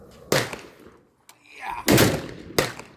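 Three sharp pneumatic shots from an AEA Zeus 16-inch big-bore air rifle charged to about 4,000 PSI, each a loud close crack with a brief tail, spaced roughly a second apart, with a faint thump between them.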